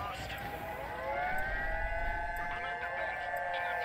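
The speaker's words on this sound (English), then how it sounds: "All these sirens." Several wailing sirens in the video game Crossout rise and fall together at a distance, layered over a low rumble, with faint background noise and no clear speech.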